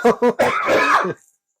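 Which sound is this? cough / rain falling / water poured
cough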